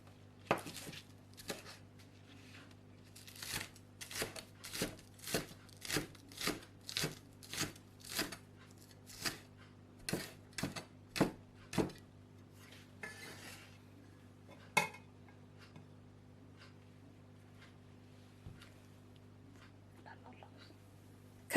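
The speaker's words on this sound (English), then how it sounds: "Cut 1 spring onion into rings." A knife slices a spring onion into rings with about a dozen crisp, evenly spaced cuts, followed by a few scattered taps and a faint steady hum in the background.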